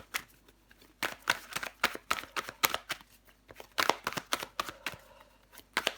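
Tarot cards shuffled and laid out during a French reading, a fast run of crisp riffles and slaps with brief pauses, close and fairly quiet, no voice.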